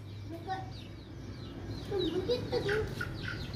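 Hens clucking in a small enclosure, scattered short calls rising and falling over a steady low background hum, moderately close and busier toward the end.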